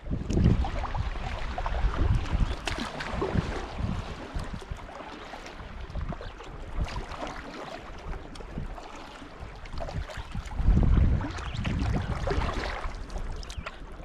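A canoe glides quickly through water with wind buffeting the microphone and soft splashing washes, a close, rumbling, uneven texture with a stronger surge of water noise near the end.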